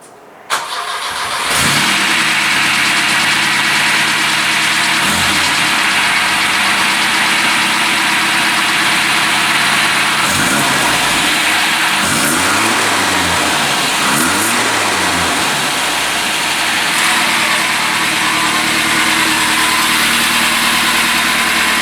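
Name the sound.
car engine idling with new exhaust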